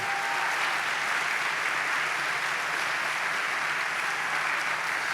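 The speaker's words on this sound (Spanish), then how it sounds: "Vamos, dele palmas al Señor" A church congregation claps together during a Spanish-language sermon, a dense, steady wash of applause filling the room at constant loudness with no break.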